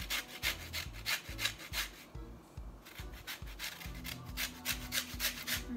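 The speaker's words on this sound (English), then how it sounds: "the lemon peel, we're going to grate it" Lemon peel rasps against a grater for zest in quick, rhythmic back-and-forth strokes, close and clear, with a short pause partway through.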